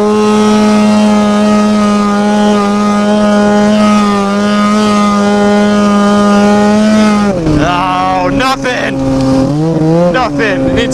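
A Ski-Doo MXZ 700 snowmobile engine drones steadily and loudly up close, then revs and surges in sharp bursts as the rider tries to lift the front into a wheelie.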